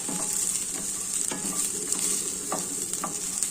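Sesame seeds roast in a pan with chillies for a stuffed ivy gourd curry, giving a continuous close sizzle. A few soft scrapes and taps of a spoon sound against the pan, and nobody speaks.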